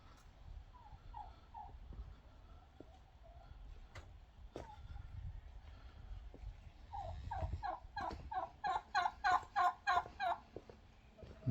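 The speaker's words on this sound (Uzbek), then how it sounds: "Kurkalar bor ekan uyda." Turkeys gobbling in rapid, warbling bursts, sparse at first then building into a loud, repeated run of gobbles near the end.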